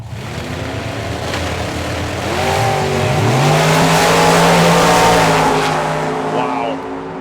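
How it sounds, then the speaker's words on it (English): At a drag race, a Chevy-powered Mustang and a Ford-powered Corvette launch with loud, rising engine roars and revving that climbs in pitch, then fades near the end. "The Chevy-powered Mustang will be off and running. The Ford-powered Corvette will be on the chase."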